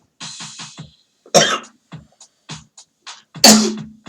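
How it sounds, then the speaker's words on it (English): Several close, sharp coughs come in bursts, with two louder, explosive coughs standing out among smaller ones, recorded right up against the microphone. "Coughing in the mic."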